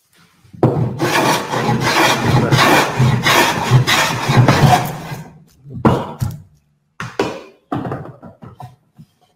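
A scrub hand plane shaving wood for fast stock removal, working diagonally across the board: a long loud rasping stroke, then several shorter close strokes with brief pauses between.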